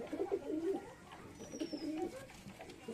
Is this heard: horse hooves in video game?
no